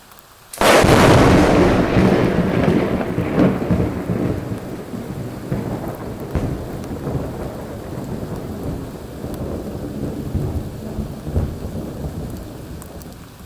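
A violent thunderstorm hits suddenly with a loud, close crack of thunder that rolls on and then fades into steady heavy rain, and a few more distant rumbles come through the downpour.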